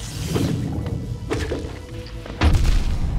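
Explosions in the Hollow Knight game land as several thuds and cracks, with a big blast near the end.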